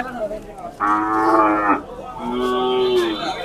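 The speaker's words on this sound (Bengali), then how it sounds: "দেখতে পারা প্রচুর গরু উঠছে আজকে" Two long, loud cattle moos one after another at a busy cattle market, deep and drawn out, with faint background noise between them.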